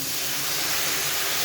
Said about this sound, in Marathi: पाक गूळ सोडल्यावरती आपण थोडंसं पाणी टाकूया याच्यात,